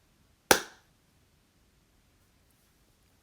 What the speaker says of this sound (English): If I clap my hand now